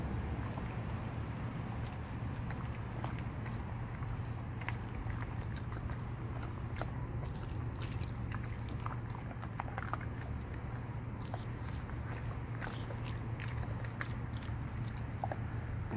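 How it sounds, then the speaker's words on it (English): A bulldogge puppy chews and crunches through a raw bone, giving steady close gnawing and biting over a low constant background hum with no talk. "he powers through and eats all that bone, chews it up well."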